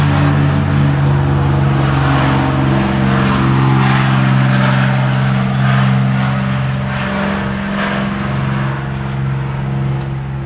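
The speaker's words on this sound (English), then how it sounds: "That was a P51 that they're giving rides in." A P-51 Mustang propeller airplane drones steadily overhead, loud and close with a constant low engine hum that holds throughout and fades slightly at the end, no talking.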